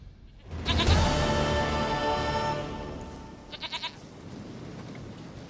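A goat in The Witcher 3 gives one long, loud, wavering bleat close by, followed by a few softer short bleats, with no talking.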